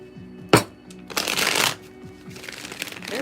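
A deck of playing cards being shuffled in sharp riffling bursts, a quick snap followed by a longer, louder riffle and softer shuffles, close by with background hum and no talk.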